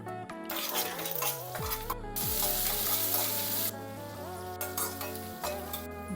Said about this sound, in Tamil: உளுத்தம்பருப்பு போட்டு தாளிக்கணும்.